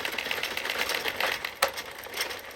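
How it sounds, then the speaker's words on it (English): A knitting machine being cranked to take a scrunchie's knitted work off: a steady, close mechanical clatter and rattle with one sharp click partway through, with no talk. "we are going to start cranking our work off of our machine"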